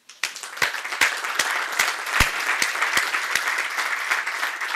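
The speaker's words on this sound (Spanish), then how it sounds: "a nuestros participantes les, pido un caluroso aplauso" Audience applause in a conference hall, starting abruptly and building into sustained, dense clapping, with a few crisp, distinct claps punctuating the steady wash.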